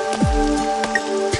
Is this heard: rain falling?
yes